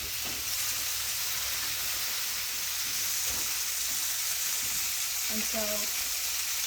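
Bacon strips laid out in a pan fry with a loud, constant crackling sizzle throughout, and a voice speaks briefly over it near the end.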